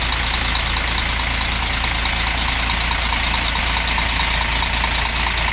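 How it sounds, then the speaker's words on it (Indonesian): A Mercedes-Benz O500R bus diesel engine runs steadily with a dense, constant rumble and hiss, close and unchanging throughout. "Inilah suara dari mesin Ozor 1836 dari Batu Mukti Putra"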